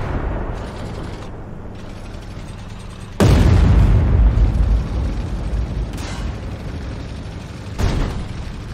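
A tank in a video game takes a shell hit: one sudden loud, booming impact cuts through steady mechanical game noise, with smaller thuds following a few seconds later.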